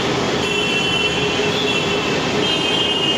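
Train rumbling through Andheri railway station in Mumbai, a steady loud rolling roar with high wheel squeal running throughout, no voices.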